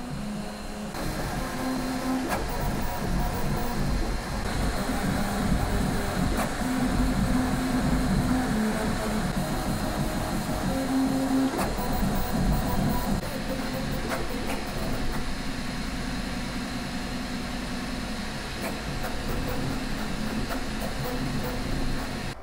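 A QiDi Tech X-smart 3 ultra-fast 3D printer runs through a cube print with a steady mechanical hum, and stepper-motor whines rise and fall as the head shifts direction. The sound holds close and constant with no talking.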